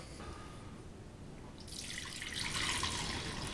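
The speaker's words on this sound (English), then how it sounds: "Once you've poured this in, it's time for the Jell-o to chill." Liquid Jell-O is poured into an oiled mold, a faint hiss that swells into a steady, brighter splashing stream after a quiet start, with no voices.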